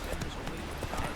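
A horse galloping in the video game The Witcher 3, quick rhythmic hoofbeats clip-clopping steadily and close up throughout the short moment.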